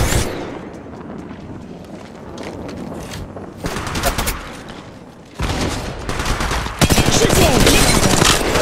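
Rapid gunfire bursts in the mobile Apex Legends battle royale game, loud sustained volleys that intensify toward the end, with game voice callouts mixed in.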